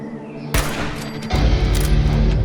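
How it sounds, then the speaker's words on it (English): Gunfire aimed at ghouls in the video game Fallout 4, sharp loud shots cracking out one after another over a booming, rumbling battle background. "More of those ghouls have turned up, so I'm going to take a few shots at them."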